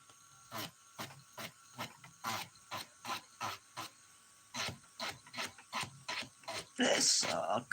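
An electric nail file set to 7,000 RPM works on dip-powder nails, giving repeated short buzzing, rasping bursts in an uneven rhythm with pauses between, close and fairly quiet.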